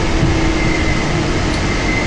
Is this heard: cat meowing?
no